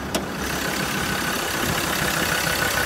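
A Ford Ranger engine idles steadily nearby, a constant low, even rumble with no revving and no voices.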